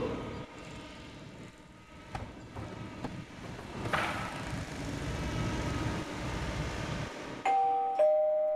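A doorbell sounds faintly near the end, a short ding-dong tone over a busy, noisy background in a Vietnamese crime drama scene, with no one talking.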